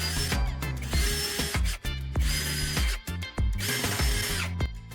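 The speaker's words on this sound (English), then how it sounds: "Drill through each mark carefully" A power drill bores holes through a flat PVC plate, with repeated loud whirring bursts that spin up and cut off several times in quick succession, close and unaccompanied by talk.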